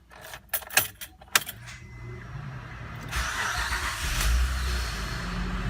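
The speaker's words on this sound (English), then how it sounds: "Okay, I'm going to start the car." A 2003 Acura MDX, freshly fitted with a new timing belt and water pump, starts after a few key jangles and clicks, then its engine catches and settles into a steady, close idle that builds slightly.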